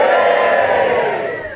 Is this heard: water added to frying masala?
no